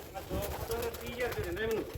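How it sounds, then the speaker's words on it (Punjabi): A netted-pattern pigeon at a Punjabi pigeon sale coos in soft, wavering repeated calls, fairly close, while a voice talks over it. "ਉਹ ਜਾਲਦਾਰ ਕਬੂਤਰ ਬੈਠਾ ਉੱਤੇ ਆ"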